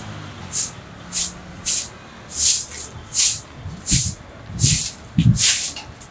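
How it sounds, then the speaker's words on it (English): Repeated short hissing bursts of a spray can aimed at a sleeping mat on a floor, roughly ten sharp sprays in an uneven rhythm with brief pauses between, close and fairly loud. "I will spray this mat."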